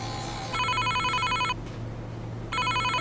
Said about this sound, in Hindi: देखो मैम का फ़ोन भी आ गया।